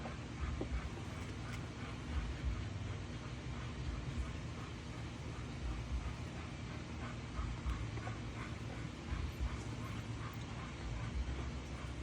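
Two dogs playing together indoors, a steady busy rumble of scuffling, whimpers and yips running throughout at moderate loudness.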